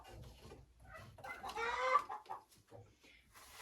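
A hen clucks softly at a nest box in a henhouse, a few faint, uneven clucks and murmurs rising briefly in the middle, quiet and close.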